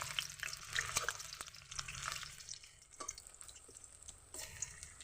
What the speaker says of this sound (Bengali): আমি এখন এই তেলের ভিতরে ছেড়ে দেব। এক এক করে আস্তে আস্তে দিয়ে দেব।